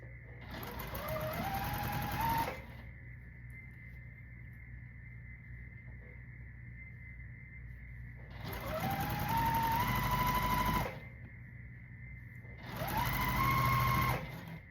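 Sewing machine stitching quilt block pieces without pins, running in three loud bursts with whirring motor hum, pausing between runs while a steady background tone continues.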